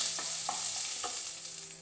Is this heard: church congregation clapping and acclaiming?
no